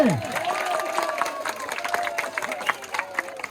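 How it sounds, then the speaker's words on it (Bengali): A crowd applauds at an award presentation for a match, with a steady, dense wash of clapping and cheering mixed with voices and a loud tone sweeping down at the very start. "সবাই আরেকবার করতালি।"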